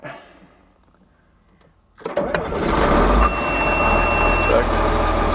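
A 46-50 farm tractor starts after a quiet pause, the engine catching abruptly and settling into a loud, steady idle with a faint whine, while a voice is heard briefly beforehand.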